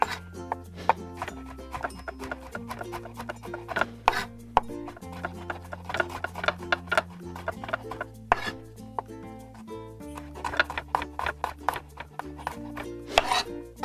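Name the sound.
mincing garlic with a knife on a board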